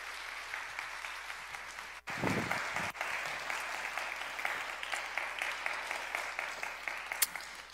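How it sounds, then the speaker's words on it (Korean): A church youth audience gives a welcoming pastor a sustained round of applause, steady crowd clapping that fills the room and continues throughout, with no one speaking over it. "우리 큰 박수로 환영하도록 하겠습니다"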